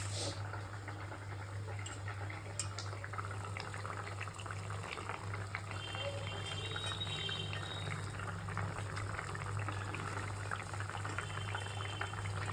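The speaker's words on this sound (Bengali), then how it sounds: "এখানে আমার মাছের ঝোল ফুটে গেছে" A pot of pabda fish curry with potatoes bubbling and simmering steadily on the stove, a continuous soft boiling hiss with a low hum beneath, no talking.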